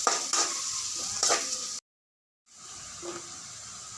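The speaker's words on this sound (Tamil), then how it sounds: "கட் பண்ணி வச்ச சின்ன பெரிய வெங்காயத்தை போட்டு கிளறி விடணும்" Onions being stirred and fried in a pan for kothu dosa, with a soft sizzle and a few quick scrapes of a spatula, a brief total dropout, then more sizzling and one more scrape.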